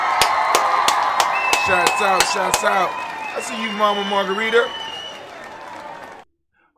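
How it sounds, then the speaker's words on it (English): A few scattered handclaps from a small gathering at a toast ring out near the start, then fade as someone speaks and calls out to the crowd. "I want to give all of the Ujamaa babies, all of the Ujamaa born, a round of applause."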